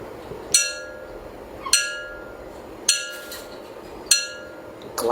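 A glass object rings with bright, sharp clinks as it is tapped four times at steady intervals, each tap leaving a short shimmering decay, loud and close.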